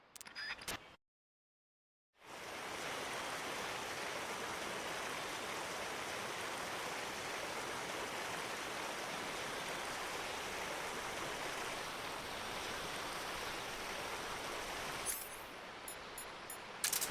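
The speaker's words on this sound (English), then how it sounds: "Keep going upstream until you get to a waterfall." Flowing stream near a waterfall in Metal Gear Solid Delta: a dense, steady rushing of water that starts abruptly after a short silence and continues unbroken.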